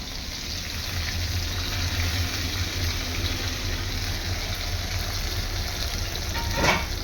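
Onion fries in hot oil in a pan as the base for a homestyle Bengali mutton curry, giving a steady, loud, close sizzle that holds evenly throughout, with no talking.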